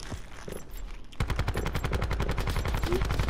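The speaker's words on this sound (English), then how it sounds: "Shooting in my ear." Rapid automatic gunfire in Call of Duty: Black Ops 4 Blackout, a steady machine-gun burst that starts abruptly after a quieter stretch and keeps firing loud and close to the end.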